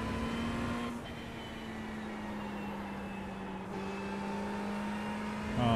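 A Ferrari 488 GT3 Evo race car in the iRacing sim at the Red Bull Ring holds a steady, droning engine note, dipping slightly around gear changes and picking back up toward the end.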